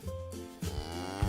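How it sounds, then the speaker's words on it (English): A black and white cow moos in a long, low, drawn-out call with strong harmonic tones, heard alone and clearly. "Now we have a black and white cow."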